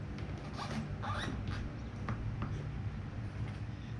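A plastic gas tank fairing comes off a Kawasaki ZX14R / ZZR1400 motorcycle with a few quick scraping rasps and clicks over a couple of seconds, close and moderately loud, followed by quieter rustling.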